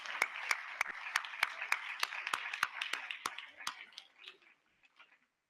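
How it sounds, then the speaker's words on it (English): An audience claps in steady applause at a recognition ceremony, crisp individual claps loud at first, then thinning and fading out toward the end. "So let's give a special round of applause to all of those folks."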